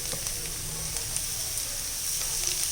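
Chopped beetroot and thick-cut onion frying in a pan, a steady close hiss of sizzling oil with faint stirring taps over it and no voices.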